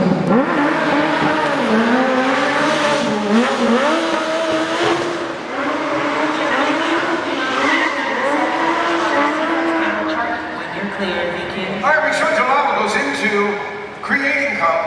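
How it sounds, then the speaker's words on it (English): Stunt cars at a vehicle stunt show at Hollywood Studios: loud, sustained engine revving with wavering tire squeals that rise and fall across the run, close and continuous. "Creating complex vehicle stunts."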